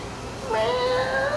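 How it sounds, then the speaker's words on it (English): A single drawn-out cat meow, close and fairly loud, rising in over low background noise and sustained to the end. "What's up, Autumn cat?"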